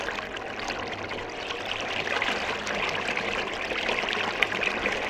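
Magnetic water pump recirculating water, drawing it in and returning it on the same side; a steady, moderately loud trickling and streaming runs continuously throughout with no talk.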